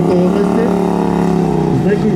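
A Yamaha MT07 motorcycle engine drones steadily at a gymkhana competition, holding a continuous mid-pitched tone with slight wavering throughout, while an announcer talks over it.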